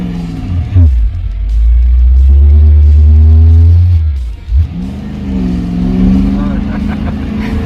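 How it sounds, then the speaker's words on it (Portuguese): A car engine revs loudly while accelerating, its pitch rising and falling through several pulls and a brief dip, with voices heard over the engine. "Acelera de novo, acelera de novo."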